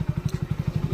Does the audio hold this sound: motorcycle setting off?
yes